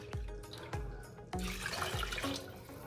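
Filtered water pours from a countertop water filter into a measuring container in a home kitchen, a splashing stream that starts and stops in a few short bursts, close and moderately loud, with no talking.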